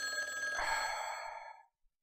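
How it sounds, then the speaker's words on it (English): A telephone rings inside Dark Fall: The Journal, a single sustained electronic ring with a bright harmonic tone that holds for about a second and a half before cutting off into silence. "Should we answer the phone?"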